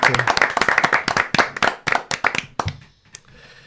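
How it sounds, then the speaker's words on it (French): An audience claps for Sarah Billot at a French reading event, a short burst of brisk, close hand claps that thins out and stops near the end, with a brief voice mixed in. "Merci d'applaudir Sarah Billot"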